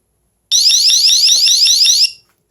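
A Govee water leak detector alarm, set to low volume, chirps high in a fast repeating warble for about a second and a half, steady and fairly loud, then stops.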